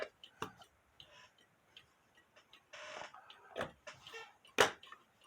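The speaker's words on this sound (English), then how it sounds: "the pendulum, the clock is in beat. It sounds pretty good" A Hubert Herr shelf cuckoo clock ticking in beat as its pendulum swings, faint close-up ticks at a fairly even pace with a few sharper, louder clicks among them.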